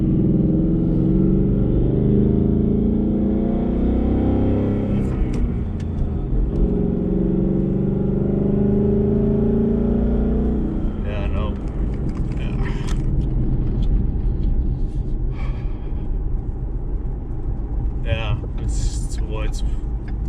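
A Ford Mustang 5.0 is driven, its low engine rumble running under someone talking for most of the stretch, then continuing beneath scattered rattles and bumps.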